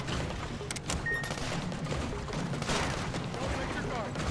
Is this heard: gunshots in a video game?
yes